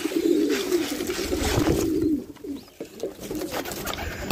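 Pigeons coo outdoors in a low, steady warble with short pauses, close and fairly loud over faint background noise, with no talk.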